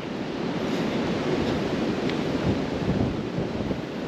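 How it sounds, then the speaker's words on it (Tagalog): Strong wind roars steadily against the microphone, a constant rushing rumble with no voices. "Grabe nga ngayon, malakas pa rin yung hangin."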